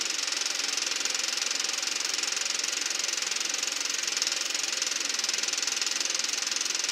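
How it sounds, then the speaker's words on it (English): A fuel pump runs on a VW gas heater under test, giving a steady, even mechanical hum with a faint fast ticking, constant in level and unbroken throughout. "it sounds like the pump is running"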